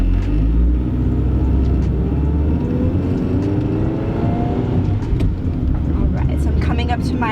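A Honda Civic fitted with Porsche brakes and new parts drives on the road, its steady low engine and road rumble filling the cabin continuously, with someone talking over it.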